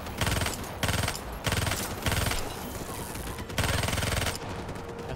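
Rapid bursts of automatic gunfire from a gun in Call of Duty: Black Ops 3, several loud volleys in quick succession with a steady game soundtrack underneath.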